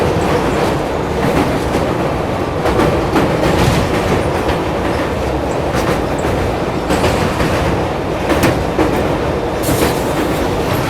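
The Yeswanthpur Lucknow Express passes on the opposite track near the Wardha River, heard from a moving train as a steady, loud rumble with rhythmic clickety-clack of wheels over rail joints and no talk.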